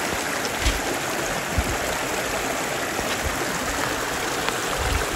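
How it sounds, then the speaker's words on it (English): A creek runs beside a hiking trail, a steady broadband rush of flowing water with occasional low thumps close by, and no voices. "we just kind of follow this creek and crisscross"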